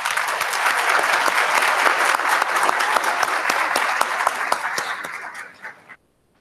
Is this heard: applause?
yes